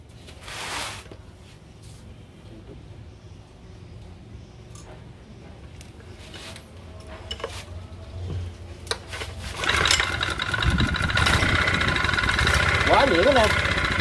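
A Japanese engine is pull-started: a few cord pulls and sputters, then at about ten seconds it catches and settles into a steady, loud, even running drone close to the microphone.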